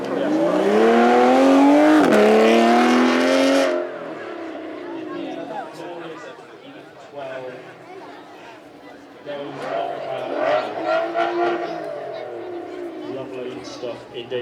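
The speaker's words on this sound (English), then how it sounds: "another Aston Martin here. You can hear the sound difference between these two. This V12 naturally aspirated" A naturally aspirated Aston Martin V12 on track at a supercar weekend screams loudly through rising and falling revs up close, then fades and returns as it passes again.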